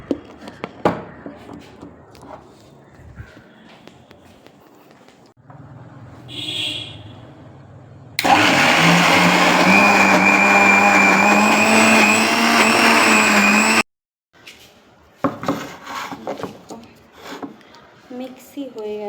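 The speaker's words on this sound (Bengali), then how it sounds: "মিক্সি হয়ে গেছে, এখানে মিক্সি হয়ে গেছে।" An electric mixer grinder grinds masoor lentils in a home kitchen, a loud harsh whirring burst of several seconds, with quieter handling clatter and short grinding pulses around it and someone speaking before and after.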